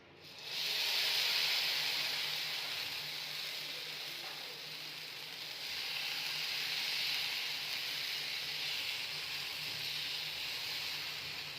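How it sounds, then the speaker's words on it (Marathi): Uttapam batter sizzling on a hot pan, a steady bright hiss that begins abruptly and keeps going throughout, swelling slightly partway through, with no talk over it. "मी आता इथे अजून बॅटर टाकून घेत आहे"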